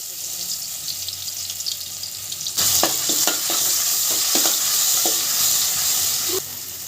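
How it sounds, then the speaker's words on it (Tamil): Oil crackles and hisses steadily, then a loud burst of sizzling starts as chopped onions hit the pan for an egg curry, with scraping stirs continuing close by. "பல்லாரி நறுக்குனது அதை கொஞ்சமாக போட்டுட்டு வதக்கி விட்டுக்கிறேன்"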